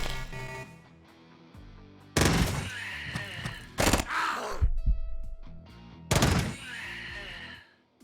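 Rapid gunfire in the video game Quasimorph comes in three loud, dense bursts spaced a couple of seconds apart, with quieter game sounds filling the gaps between them.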